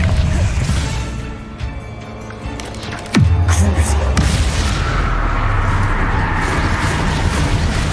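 Fire spell cast in Hogwarts Legacy, producing a sharp explosive boom about three seconds in that settles into a sustained low rumble. It sits among dense game sound effects and music, with a voice speaking in the clip.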